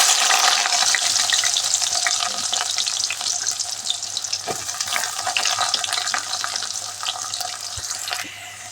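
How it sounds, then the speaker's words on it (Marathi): Chopped onions sizzle steadily in hot oil in a pan for tendli sabzi, a dense, close crackling hiss with occasional stirring scrapes that eases slightly toward the end, with no talking. "तेल आता गरम झालंय, त्यात कांदे टाकू."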